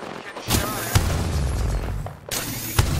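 Gunfire in the Apex Legends video game: two loud bursts of rapid shots with sharp cracks, separated by a brief lull, heard close and prominent in a busy game mix.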